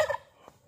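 A turkey lets out a brief, fluttering gobble close by, then quiet.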